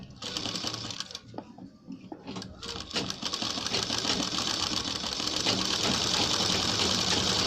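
A sewing machine stitches a ladies' kurta collar with buckram fusing, starting with hesitant short bursts and then settling into a steady, fast whirring run, with a voice speaking at the start.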